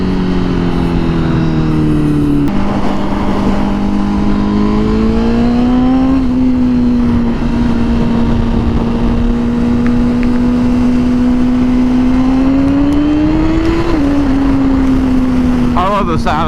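Honda Fireblade 1000RR-R SP sport motorcycle engine running loud and close, a sustained buzzy drone that rises and dips through several gear changes while riding, with wind rush throughout.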